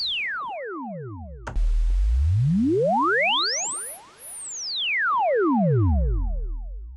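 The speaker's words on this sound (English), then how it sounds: "I created this small laser-like FX sound as well." A laser-like effect from a Yamaha Reface CS synthesizer, made by slow, deep pitch modulation: several layered tones sweep down, rise high, then fall again over a low rumbling bed, loud and continuous with no talk.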